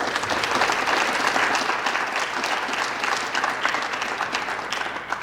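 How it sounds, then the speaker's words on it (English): An audience at a school athletic signing day claps for the custodial staff, dense sustained applause filling the room before slowly tapering off. "I want our student athletes to give a round of applause to our custodial staff"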